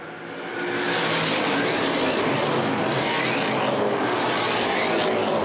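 Street stock race cars racing at Winchester Speedway in a CRA championship event, a dense, loud, continuous engine roar from the pack that swells in and holds steady.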